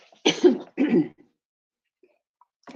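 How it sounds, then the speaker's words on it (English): A person coughs twice in quick succession, close and fairly loud, followed by near silence. "sorry, I coughed"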